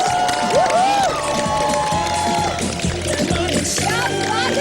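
A studio audience at a televised show claps and cheers loudly for arriving drama stars, a dense wash of applause with whoops and shouts and voices mixed in.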